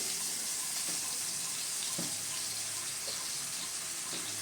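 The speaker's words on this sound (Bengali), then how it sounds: "মিক্সিং বোলের মধ্যে সামান্য পরিমাণে জল নিয়ে জলটা দিয়ে দিচ্ছি" Water poured into a mixing bowl while cooking a Bengali aloo potol curry, a steady broadband rushing pour lasting throughout with a few soft knocks, fairly close, no talk.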